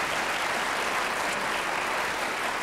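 A studio audience gives a newcomer a round of applause, a loud, dense and uniform burst of clapping that runs steadily from start to finish without talk.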